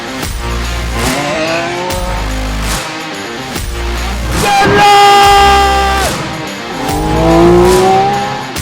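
A Koenigsegg supercar runs flat out down a runway, engine howling through rising gear pulls with brief gaps at each shift, loud and close, alongside a Valkyrie in chase.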